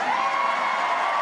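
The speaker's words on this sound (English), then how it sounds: "You can hear the Canberra crowd really growing into it" Canberra crowd cheering at a women's football match between Canberra United and Perth Glory at McKellar Park, a sustained wash of voices with a steady whooping tone, with no commentary over it.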